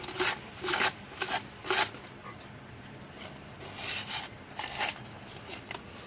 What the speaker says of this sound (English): make sure it's really soft, guys. It's really soft sandpaper